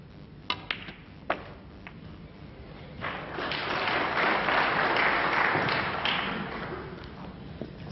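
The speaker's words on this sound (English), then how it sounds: "a round of applause there from the snooker enthusiasts" Audience applause at a 1998 Masters snooker final, beginning after a few sharp ball clicks, swelling for several seconds at moderate distance, then fading as more clicks and taps return.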